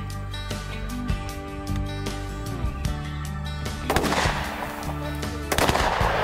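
Over-under shotgun blasts during a dove hunt in Wisconsin, sharp loud reports standing out over a steady outdoor background, with a couple of distinct shots near the middle and end.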